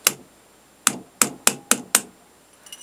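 A plastic hammer tapping a wooden dowel to drive out the hammer spring of an 1858 Remington revolver: one sharp tap, a pause, then five quick, evenly spaced close knocks.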